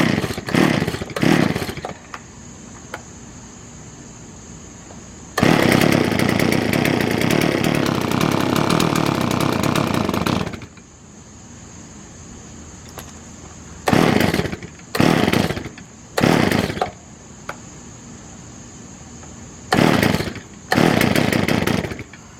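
A Stihl 026 chainsaw with a freshly rebuilt carburetor, loud and close, puttering at idle between several bursts of high revving, one long rev lasting about five seconds and then shorter blips.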